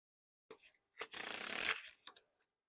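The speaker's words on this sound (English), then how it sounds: "Now time for the giant fan of the faces." Orbit Eighth Edition playing cards, spread into a giant fan of faces, give a short close rustle, a brief flick, then a sustained bright sliding whir of cards running across a surface, ending in a few light taps.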